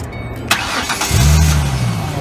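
A new car's engine turns over and settles into a steady mid-pitched run, close and fairly loud over some background noise, given as a Christmas gift.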